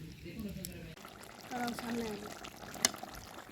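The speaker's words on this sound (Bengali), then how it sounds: "দিয়ে দিলাম সিরকা, সিরকাটা দিলাম কারণ যাতে আচারটা অনেক দিন পর্যন্ত ভালো থাকে" Vinegar trickles softly into a chalta (elephant apple) pickle mixture, a quiet, brief pour beneath a person talking.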